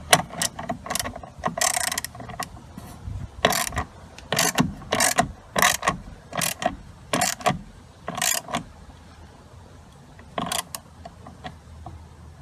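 A ratchet tightens a T50 seat belt bolt inside a 2017 Chevy Cruze, giving close, crisp clicking bursts in repeated strokes with short pauses between them.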